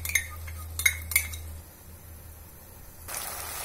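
Metal spoon clinks against a bowl while tomato ketchup is spooned into Manchurian sauce: three sharp clinks close together early on, then a quieter stretch of faint kitchen noise.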